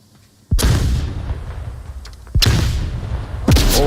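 Grenade blasts in a video game, three sharp, loud booms spaced about a second or two apart, each decaying into a rumbling tail.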